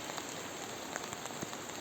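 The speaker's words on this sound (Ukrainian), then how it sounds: "Хочу вам показати, який дощ падає." Heavy downpour falling outdoors beside a garden greenhouse, a steady dense hiss of rain with scattered louder drops striking nearby surfaces, continuous and alone with no voices.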